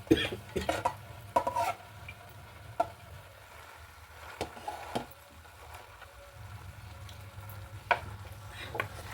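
Cooked rice being stirred into fried chana dal masala in a pan, irregular scraping and clinking of a spoon against the pan with faint sizzling between strokes, close and fairly quiet.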